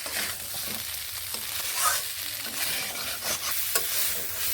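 Pumpkin and chickpeas are stirred and sautéed in a pan, giving a soft steady sizzle with scraping stirring strokes and occasional sharper clicks of the spoon against the pan, fairly quiet and close.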